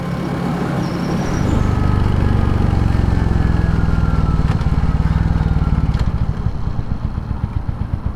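A 2023 Royal Enfield Hunter 350 motorcycle idling low, a loud, close, steady single-cylinder thump with a fast, even pulse that continues throughout, with faint outdoor background sounds.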